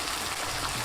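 Tomatoes softening in a hot pan with black pepper and salt, giving a steady close sizzle as they are stirred, with a brief scrape near the end and no voices.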